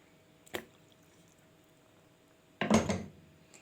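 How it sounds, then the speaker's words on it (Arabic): Half a lemon is squeezed by hand into a pot of water meant for boiling taro: a faint squish, then after a pause a louder wet squeeze and trickle into the pot, with no talking. "اول حاجه عندي ميه هنغليها على النار، ونبدا نعصر"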